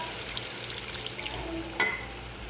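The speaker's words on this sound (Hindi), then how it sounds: "पानी ऐड करेंगे इसमें।" Water poured into a pan of frying ground onion and camel meat for korma, giving a steady low sizzle with a brief louder splash and hiss near the end.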